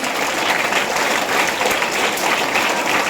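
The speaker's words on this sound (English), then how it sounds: "let's give a big round of applause for our talented, amazing Nalandian teachers." Loud, steady applause from a school audience at a Teacher's Day celebration, a thick, continuous clatter of many clapping hands filling the whole span with no talking over it.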